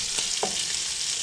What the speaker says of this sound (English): So I put the pork in there and I haven't flipped it yet because I'd like it to be as brown as possible on that one side